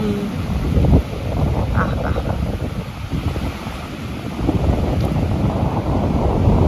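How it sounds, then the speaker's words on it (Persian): Sea waves washing onto the shore on a windy northern coast, a continuous rushing surf with wind buffeting the microphone, loud and close, with no talking. "این صدای آب انقدر به آدم کیف میده."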